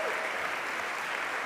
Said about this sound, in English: a standing ovation from the crowd as well